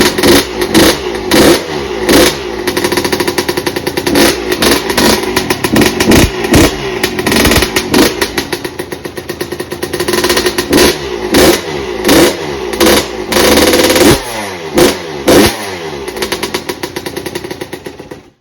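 2002 Yamaha YZ125 two-stroke dirt bike engine running up close, a loud rattling low idle broken by repeated sharp throttle blips throughout, with no talking.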